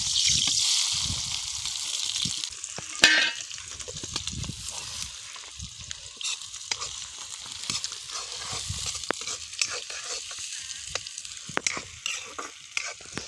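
Garlic and onion fry in hot oil, a sizzle that is strongest at the start and then fades, broken by stirring clicks and scrapes, with no talking.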